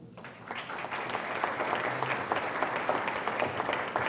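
A church congregation at an annual parish meeting breaks into steady applause, a dense wash of many hands clapping at moderate volume, continuing evenly throughout.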